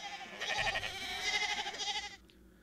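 A flock of sheep bleating, several overlapping calls in quick succession, fairly close and steady for about two seconds before breaking off into quiet.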